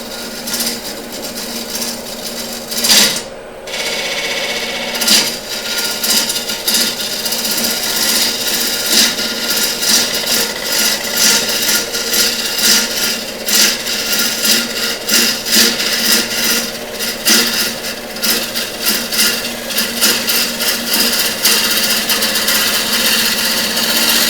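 Wood lathe spinning an epoxy bowl at around 1,000 RPM while a turning tool cuts it, a steady loud motor hum under continuous scraping and rasping, with a brief pause early on and no talk.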